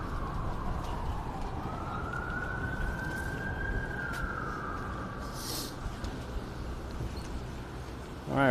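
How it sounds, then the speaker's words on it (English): An emergency vehicle siren rises and wails steadily over the hum of traffic on a Toronto street at night, heard at moderate distance and fairly faint, with a brief louder clatter at the end. "we're having a lot of sirens this stream today"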